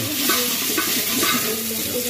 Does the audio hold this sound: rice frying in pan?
yes